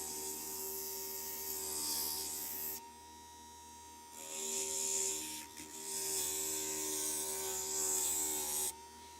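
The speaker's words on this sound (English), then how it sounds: "Got a few more pieces to grind down here." A glass grinder works stained glass pieces, a steady electric whine with grinding noise that cuts out briefly twice between bursts, with no voices.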